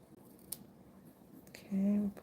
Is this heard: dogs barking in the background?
no